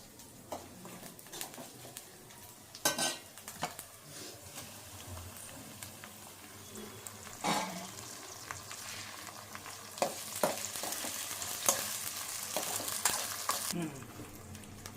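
Tomatoes tossed into a pan of frying ginger garlic paste for a mushroom curry, a continuous close sizzle with occasional stirring scrapes and pops that grows slightly busier toward the end.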